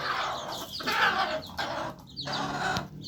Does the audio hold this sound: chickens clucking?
yes